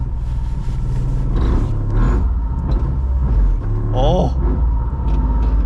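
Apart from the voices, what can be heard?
Cusco Toyota GR Yaris rally car engine pulling away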